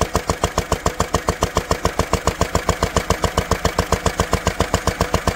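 A Lister D stationary engine runs steadily with a close, even, rapid thumping beat throughout.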